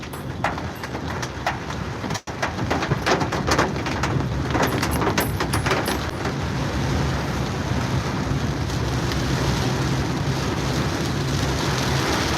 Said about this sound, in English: it's raining like anything